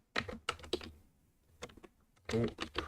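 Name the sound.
typing on a keyboard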